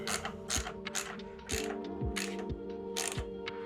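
A ratchet tightens bolts on a Triumph Tiger 1050 motorcycle, giving a steady close-up run of rapid clicks broken by short, regular strokes.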